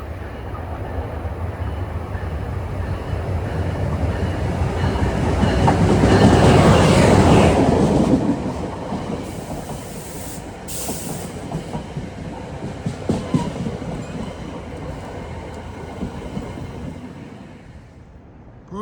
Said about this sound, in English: Approaching at 7:01 is train 61 from Hoboken to Port Jervis